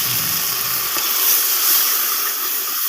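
Water poured into a pan of browning onions sets off a loud, steady sizzle and hiss of steam that holds evenly for a few seconds while Indian vegetable curry is cooked.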